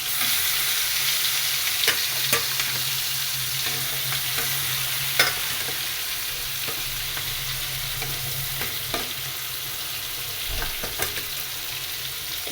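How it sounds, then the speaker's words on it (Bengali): Marinated shrimp frying in hot oil in a pan, a steady soft sizzle with occasional sharper spatters and pops, close and even throughout, with no talk. "গরম তেলে মেরিনেট করা চিংড়ি মাছটা আগে একটু ভেজে নিই।"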